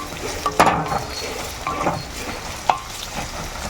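Sliced onions and curry leaves frying and being stirred in a pan, with a soft background sizzle broken by a few sharp scrapes and clinks of the spoon against the pan.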